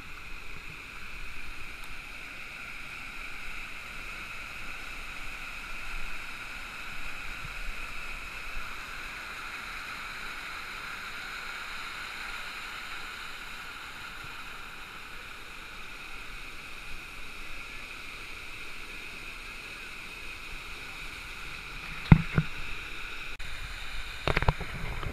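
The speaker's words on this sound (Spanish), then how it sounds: "¡Ah, mira la cascada! La segunda." A waterfall cascades in a steady, soft rushing hiss heard from some distance at Cascadas Mariquita in Tolima, with a few faint knocks near the end.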